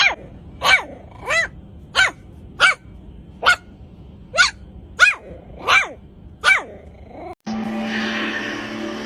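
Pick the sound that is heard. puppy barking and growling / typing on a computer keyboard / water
puppy barking and growling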